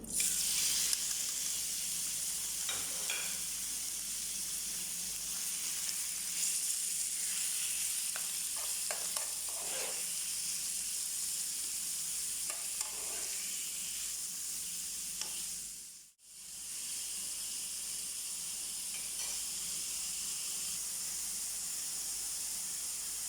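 Steady sizzling of chicken frying in a little oil in a hot pan, with occasional scraping and stirring sounds, close and continuous, with one brief break near the end.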